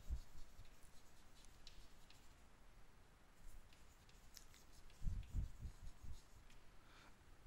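Numbers are written by hand on paper while a maths problem is worked out, a faint, close scratching of a pen with a few firmer strokes.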